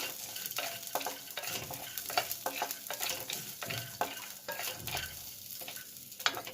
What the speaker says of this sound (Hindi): मूंगफली कच्चा है, इसको हमें भून लेना है थोड़ा सा। धीमे आंच पे ही भूनिएगा ताकि छिलका जले ना।